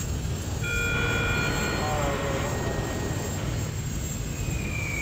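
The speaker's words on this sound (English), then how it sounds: "High speed bomber ready for takeoff." High speed bomber taking off in Command and Conquer Generals Zero Hour, a loud sustained jet engine roar with rising whine tones, steady throughout.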